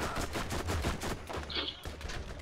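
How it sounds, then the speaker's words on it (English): Dense enemy gunfire in the video game Borderlands, a continuous rattle of rapid shots and bursts at moderate volume. "people are shooting at me"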